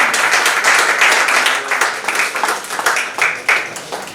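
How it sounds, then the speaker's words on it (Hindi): An award-ceremony audience applauds as the chief guest is called to the stage, a steady burst of many hands clapping at close range with a slightly uneven rhythm, no voices over it. "Put your hands together."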